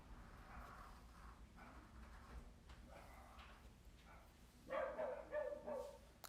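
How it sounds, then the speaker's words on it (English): A dog barks faintly in the background of a quiet room during an acrylic painting session, a few scattered barks and yips that grow louder near the end. "Excuse my dog in the background."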